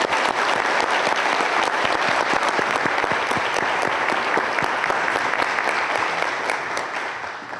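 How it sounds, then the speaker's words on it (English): A full audience round of applause for police chief finalists at a public community forum, a dense steady wash of many hands clapping close and loud, holding throughout and easing slightly at the end. "helping me show our appreciation to all of these candidates together with a round of applause."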